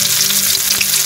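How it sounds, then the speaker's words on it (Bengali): Five-spice seeds and chopped onion hit hot oil in a wok, giving a steady, loud, close sizzle that holds evenly through the short stretch. "তেলটা গরম হয়ে গিয়েছে, তেলের মধ্যে দিয়ে দেবো 5 ফোড়ন, কাটা পেঁয়াজ,"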